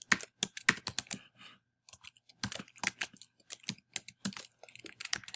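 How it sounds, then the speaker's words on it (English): Fingers typing a username on a computer keyboard, quick close key clicks in two short bursts with a brief pause between, otherwise quiet. "You'll type in your username."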